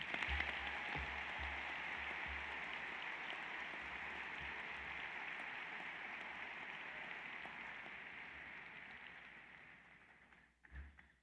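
Audience applause at a law school commencement and hooding ceremony, a dense, steady clapping that fills the hall and slowly tapers off near the end.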